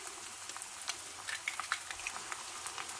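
Egg fried rice fries in a pan with a soft, steady crackling sizzle and faint scattered pops, heard quietly and close.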